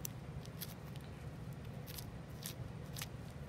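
Scissors snipping through tissue during a cat dissection, several short crisp cuts spaced irregularly over a faint steady background hum.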